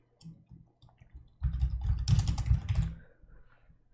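Computer keyboard typing while entering a repository description during a Bonobo Git Server setup on Windows Server, a quick run of clicking keystrokes that grows denser midway, close and fairly clear with no talking.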